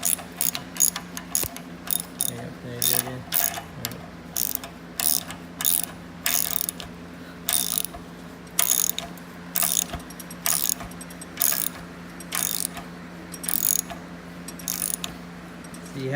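Ratchet wrench tightening bolts on a Corvair engine during a refresh, rapid clicking bursts repeated in short strokes throughout, close and fairly loud with a steady background hum.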